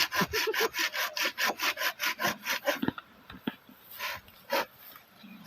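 Rhythmic back-and-forth rasping of a hand saw through wood, quick regular strokes for a few seconds, then slower, scattered strokes with brief pauses, close by.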